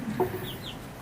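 A chicken clucks briefly and softly, a short throaty call heard close by over a steady, slightly noisy background.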